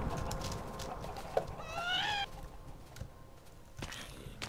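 Chickens cluck in Minecraft, with one rising squawk standing out over a steady background of game ambience and scattered clicks.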